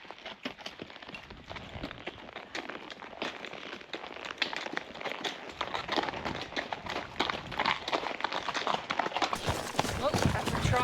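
Steady clip-clop of horse hooves on a hard surface in New South Wales, a brisk rhythmic trot, close by, with a rider's voice talking faintly over it.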